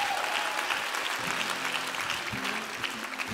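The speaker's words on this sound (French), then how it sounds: "On peut applaudir." Audience applause at a Radio France live music stage in 2021, a steady dense wash of clapping throughout, with faint low voices or music murmuring underneath.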